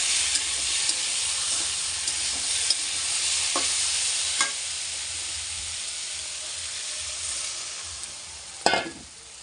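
Vegetables frying in a pan while being stirred, a steady close sizzle with scraping spatula strokes and a sharper clatter near the end, no voices.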